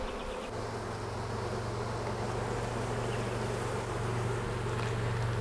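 Dense, steady buzzing of honeybees around an opened, nearly full honey super in a commercial apiary, a close continuous drone of many wings with no talking.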